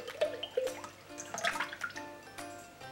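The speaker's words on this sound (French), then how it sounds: "Ajoutez la crème fleurette." Whipping cream poured into the bowl of a Thermomix TM5, a soft close trickle and splashing with small gurgles and drips over a few seconds, quiet and without speech.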